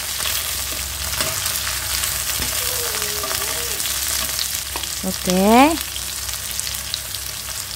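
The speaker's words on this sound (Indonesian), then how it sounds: "Setelah harum, masukkan bumbu yang lainnya. Tumis lagi sampai layu." Spice paste sizzles steadily as it is stir-fried in a pan, a constant loud frying hiss with occasional clanks of a utensil and a brief spoken word.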